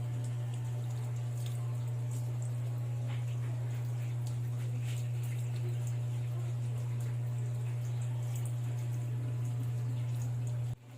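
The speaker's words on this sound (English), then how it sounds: "Running water rinses organisms and dirt into the sink." Tap water runs into a sink while hands are rinsed under it, a soft steady splash. A strong low electrical hum sits beneath it throughout.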